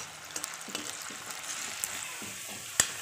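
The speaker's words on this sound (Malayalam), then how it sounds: "എണ്ണ ചൂടായിട്ടുണ്ട്. നമുക്കതിലേക്ക് നമ്മൾ എടുത്തു വെച്ചിരിക്കുന്ന നമ്മുടെ കിഴങ്ങ് ഇട്ട് കൊടുക്കുക. നമുക്കിത് നല്ലതുപോലെ ഒന്ന് ഇളക്കി കൊടുക്കാം." Potatoes sizzle in hot oil as they fry and get stirred, a steady soft crackle broken by light scraping and clicks of a utensil against the pan, heard close with no talking.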